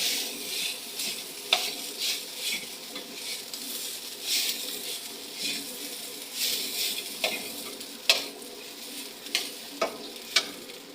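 Fried rice with egg and lots of garlic sizzles in a pan while a utensil stirs and scrapes, with several sharp clinks against the metal over a steady crackling bed; no one speaks.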